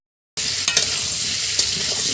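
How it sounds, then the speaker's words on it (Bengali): Papaya pieces fry in a pan with a loud, steady sizzle that starts abruptly after a short silence, and a few sharp stirring clicks cut through the hiss. "তো আমরা পেঁপেগুলোকে ভেজে নিচ্ছি"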